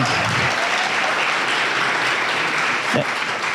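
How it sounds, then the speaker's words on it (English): Audience applause during a shopper-marketing business presentation, dense continuous clapping filling the room at a loud, even level for several seconds. "Can we just give them a round of applause for having us in here today?"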